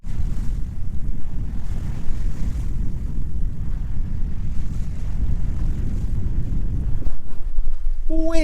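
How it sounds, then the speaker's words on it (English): Strong wind roars steadily across a sailing boat at sea near Trinité-sur-Mer, a loud, close buffeting rush with water noise beneath, and a brief voice at the very end. "Wind."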